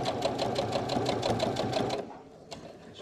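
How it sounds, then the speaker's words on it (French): A sewing machine runs a simple straight stitch along a curtain hem about 2 mm from the edge, its steady rapid needle rhythm close and loud for two seconds before stopping into quiet, with one brief click after. "à 2 mm du bord avec un petit point d'arrêt. C'est du point droit tout simple."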